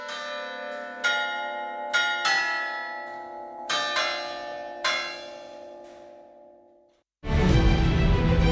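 Church clock bells ring a slow tune, Hora Unirii, one bell note missing, each strike ringing out and fading, before a burst of broadband noise cuts in at the end.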